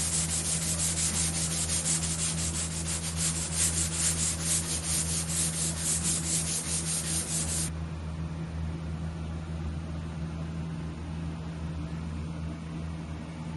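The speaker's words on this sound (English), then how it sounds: "So I went ahead and sanded down a larger radius into these corners here, just where the mounts are mounted" Rhythmic, close, loud sanding strokes rub larger radii into the corners of an engine mount bracket for a homebuilt Mosquito helicopter. The strokes stop after about eight seconds, leaving only a low steady hum.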